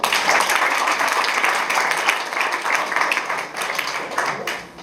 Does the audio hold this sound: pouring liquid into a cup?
no